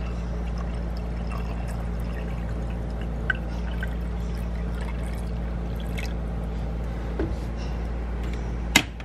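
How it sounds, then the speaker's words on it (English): Water pours steadily into a coffee maker to fill it in a home kitchen, a continuous wash of liquid over low background hum, with a couple of faint knocks near the end. "Oh, gotta fill that with water."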